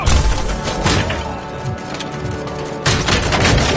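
Covering gunfire in the RoboCop PS5 video game, a loud, dense fusillade of rapid shots and crashing impacts that dips slightly midway and then surges again near the end.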